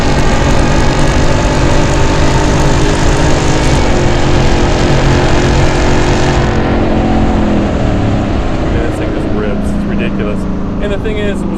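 A Hennessey VelociRaptor V8 truck on big tires drives at speed on a track, its engine droning loud and continuous from inside the cab, easing off slightly partway through.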